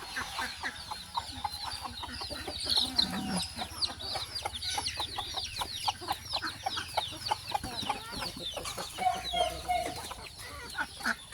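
Several hens cluck steadily in a farmyard, a busy overlapping chorus of short clucks and squawks, some near and some farther off, with one longer throaty cackle.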